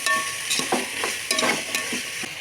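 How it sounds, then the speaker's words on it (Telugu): Potatoes, carrot, capsicum and tomato sizzle in a pan for a vegetable pulao, with several distinct stirring scrapes in a rough rhythm over a constant close frying hiss. "బంగాళదుంపలు క్యారెట్ క్యాప్సికమ్ టమాటా మొత్తం మొత్తం వేసేసుకొని కలుపుకోండి ఈ మొత్తాన్ని ఒక ఫైవ్ మినిట్స్ బాగా వేగనివ్వండి"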